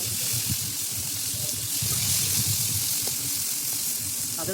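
Potatoes frying in hot oil in a wok, a loud continuous sizzle with bubbling crackle, close and steady, with no talking.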